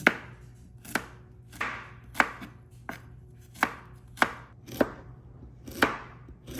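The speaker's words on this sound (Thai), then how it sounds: "ก็จะหั่นเป็นแบบว่าให้เป็นชิ้นเล็กๆนะคะ" A knife chops okra into small pieces on a cutting board, sharp close taps coming about once a second, with no talking.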